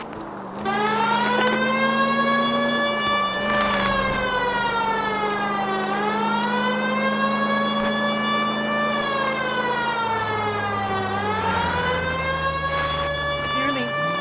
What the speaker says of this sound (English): You got something against sirens, Phelps?